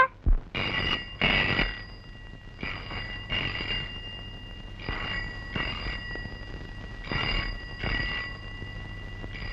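An old landline telephone rings indoors at home in repeated double bursts of bright bell tone, spaced evenly and moderately loud, with faint background room noise between the rings.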